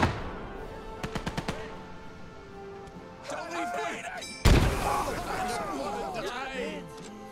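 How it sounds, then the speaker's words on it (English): Gunfire and explosions in the Gates of Hell war game, including mortar fire: a quick burst of rapid shots followed by a heavy blast and crackling battle noise, with voices over the action. "I hate the mortars!"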